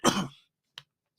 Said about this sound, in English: Apologize for coughing